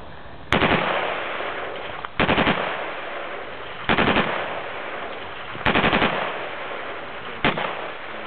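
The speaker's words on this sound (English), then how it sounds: "I'll put a few rounds off in fully automatic." Five short bursts of fully automatic rifle fire at an open-day shooting range, each a rapid rattling string of shots, loud and close, separated by pauses of steady background noise.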